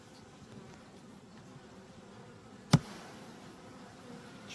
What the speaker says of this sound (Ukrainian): Чому вони обеспокоєні, ці бджоли?